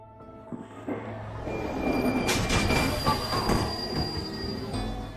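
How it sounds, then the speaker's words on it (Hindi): A metro train runs along the track and brakes. A rising rumble builds into loud, high-pitched wheel squeals that persist for several seconds, close and prominent. "इस लाइन पर प्रॉब्लम की वजह से ये मेट्रो अभी रुक जाएगी"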